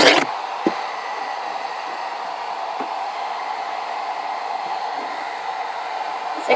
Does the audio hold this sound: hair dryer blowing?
yes